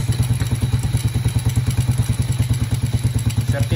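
An old motorcycle engine runs steadily, a rapid, even putter of thumping exhaust pulses with light mechanical clatter, close and fairly loud, with no voices.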